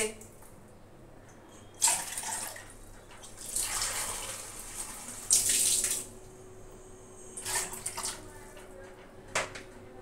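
Tap water running into a cup or vessel in short bursts, several separate splashing pours with pauses between them, close and fairly quiet.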